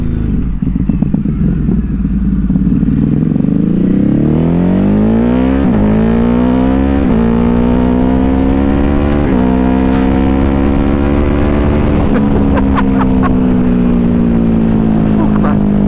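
A 2022 Ducati HyperMotard 950 SP is ridden close to the microphone. Its engine climbs loudly through several rising runs with brief drops at each gear change, and wind buffeting runs throughout.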